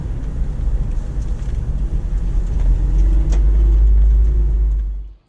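A car climbs uphill through Oxley Wild Rivers National Park past burnt-out country, its engine a steady low rumble with road noise that builds and holds close, then cuts off at the end.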